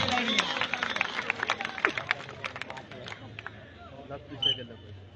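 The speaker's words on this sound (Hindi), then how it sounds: "जोरदार तालियां" A crowd at an outdoor volleyball match in Kothian, Bagh, Azad Kashmir breaks into loud, scattered applause, with claps strongest early and fading, under steady crowd chatter and an announcer's voice.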